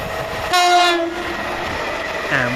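A train horn sounds briefly over the low rumble of South Western Railway passenger trains departing Surbiton station, with rail noise continuing and a second tone near the end.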